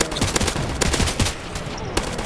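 Rapid machine gun fire in a video game, a dense run of sharp repeated bursts filling the short moment, with little else audible.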